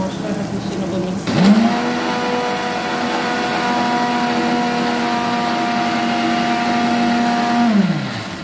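A kitchen mixer grinder grinds spices for a katla fish curry. The motor whines up sharply, holds a loud, steady drone for about six seconds, then winds down at the end.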